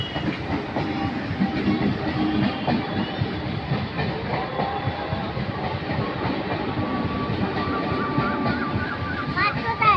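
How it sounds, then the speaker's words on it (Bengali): An Indian local train passes close by with a continuous rumble and rhythmic clatter of wheels over rail joints. Near the end a horn sounds, and a person speaks briefly. "দেখতে পাচ্ছিস ট্রেন যাচ্ছে"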